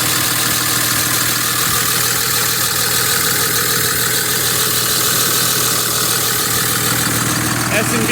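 A 2006 Dodge Mega Cab manual pickup with a Cummins diesel, big Borg Warner S464 turbo and Industrial Injection kit idles steadily and loudly up close, with a broad constant drone and turbo whistle, while someone talks over it.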